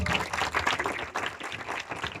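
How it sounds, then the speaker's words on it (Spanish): Applause at a church debate between a Catholic and an Assemblies of God pastor, a short burst of clapping from a modest crowd, uneven and close, pulsing in quick waves. "aquí está un fuerte aplauso para Clemente."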